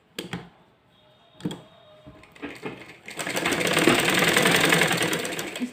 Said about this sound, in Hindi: अब ये जोड़ इस तरह से मिलाते हुए हम सिलाई चला लेंगे